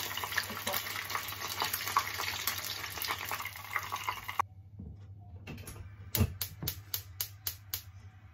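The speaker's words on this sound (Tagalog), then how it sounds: "Prito na po natin ang ating tempura. Unahin po natin ng hipon po." Battered shrimp tempura deep-fries in hot oil with a dense, crackling sizzle, which thins out halfway through. Sharp clinks and taps from cookware follow near the end.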